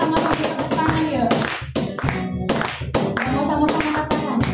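Steady rhythmic hand clapping from a church congregation during a worship service, with music and singing voices underneath throughout.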